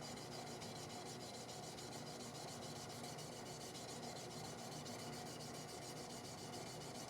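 Steady, continuous rasping rub from hand-sanding a cherry wood yarn bowl, smoothing a transition. Close and even throughout, with no talking.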